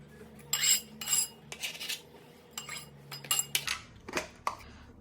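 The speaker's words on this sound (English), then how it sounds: "I'm recording you chopping" A knife chops onion on a cutting board in a home kitchen, producing about a dozen sharp, bright clicks in uneven bursts, close up with no talking.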